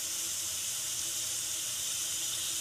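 Potato pieces frying in hot oil give off a loud, steady hiss of sizzling that runs unbroken and close by, with no talking over it.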